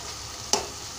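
Ginger garlic paste fries in hot oil with a constant close sizzle, broken by two sharp spoon taps against the pan, one midway and one at the end.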